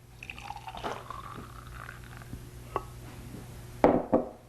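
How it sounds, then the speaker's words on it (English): Fresh juice from a Green Star Elite juicer trickles and drips into a small glass, a few faint liquid splashes and light clinks ending with a brief louder splash. "Pour it into a cute little glass."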